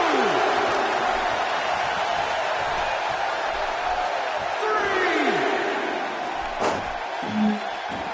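Arena crowd in a WWE wrestling video game, producing a steady roar of cheering spread across the whole stretch, with a commentator's voice running over it.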